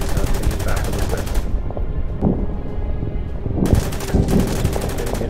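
Rapid bursts of gunfire from fortresses and bunkers in the Order of Battle Winter War campaign, loud machine-gun-like rattling in two long volleys separated by a quieter gap with low rumbles.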